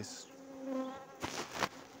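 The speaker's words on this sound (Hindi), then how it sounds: "इसे धुआं मारते मक्खियाँ ज़्यादा ही एक्टिव हो रही है" Honeybees buzzing around an opened hive after being smoked, a steady droning hum with individual bees flying close past, loud and continuous with no talking.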